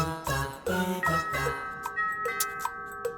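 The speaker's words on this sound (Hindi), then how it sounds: "घंटी बज रही है, देखो कौन है।" A doorbell chimes in a repeated melodic ding-dong pattern, followed by several lighter single ding tones ringing out clearly indoors.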